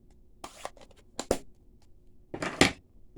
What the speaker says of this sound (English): you can just take your scissors and just go around